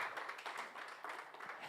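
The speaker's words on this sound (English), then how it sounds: "Give them a round of applause." Scattered hand clapping from a small crowd at a mathematics quiz competition, faint and somewhat distant, uneven bursts over a low hum.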